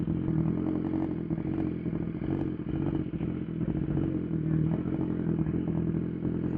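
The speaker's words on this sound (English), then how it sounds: "wheelies on the S1000 are always pretty fun" A BMW S1000RR rides wheelies near a car meet, its engine roaring steadily and loud with clattering, scraping mechanical noise and no talk.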